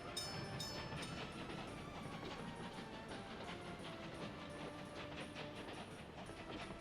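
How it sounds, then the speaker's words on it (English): Early steam train in the Workers & Resources: Soviet Republic game, in a Hampshire 1900 start, giving a steady rolling rail rumble with rhythmic clatter and a few brief whistle tones near the start. "So this is our first little train"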